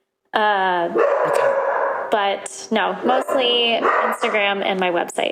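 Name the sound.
dogs barking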